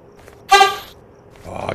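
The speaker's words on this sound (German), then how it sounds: "dieses ekelhafte... ekelhafte Hupen immer" A single short car horn honk in a horror video game, loud and close, followed by faint background noise.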